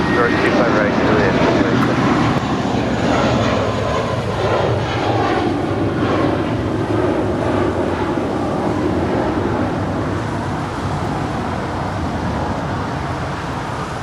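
A Spirit Airlines Airbus A321 airliner takes off from Los Angeles International Airport with a continuous broad jet roar that slowly fades as it climbs away, heard from a distance with radio chatter over it.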